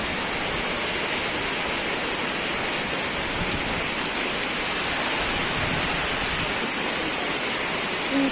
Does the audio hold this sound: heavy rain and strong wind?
yes